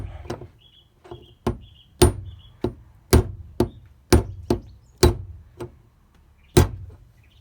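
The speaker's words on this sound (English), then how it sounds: "just give it a couple gentle whacks with the hammer and gently open." Hammer giving sharp metallic taps to a punch to crack open a car fuel pump, about a dozen distinct close strikes at an irregular pace, each with a short ringing decay.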